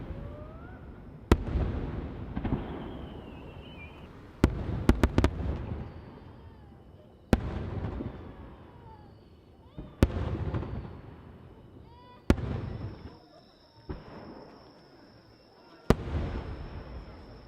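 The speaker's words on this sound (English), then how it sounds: "Each boom echoes across Katakai." Japanese fireworks festival at Katakai, with sharp booms bursting every few seconds, some in quick clusters, each followed by a long rolling echo across the quiet town.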